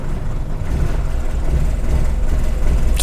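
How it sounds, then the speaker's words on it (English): A Datsun Sunny B10 car engine runs in a steady low rumble throughout, close and fairly loud, with no clear starter crank heard. "So start by starting the engine."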